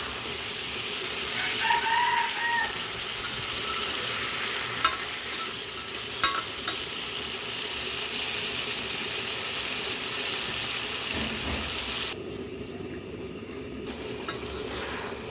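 Fish curry with winter beans cooks in a covered pan, giving a steady, soft bubbling sizzle throughout with occasional faint clicks and clinks, no voices.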